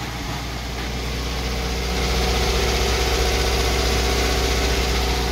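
A Żuk A11 flatbed truck engine runs at a steady, loud idle after starting, with a low rumbling drone that firms up slightly partway through and continues unbroken, without speech.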